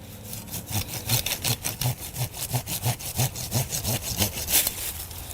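Steady back-and-forth handsaw strokes cutting through a plant stem, rhythmic strokes about twice a second, close and fairly loud, with no voices.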